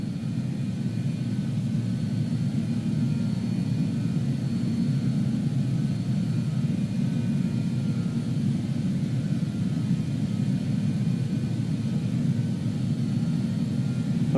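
A BAE-146 jet in flight in Microsoft Flight Simulator 2020, heard as a steady, loud, broadband engine roar and rumble that holds constant throughout with no voices.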